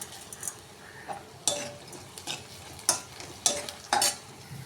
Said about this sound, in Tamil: வெங்காயம் நல்லா வதங்கணும் தான்.